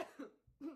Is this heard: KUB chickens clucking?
no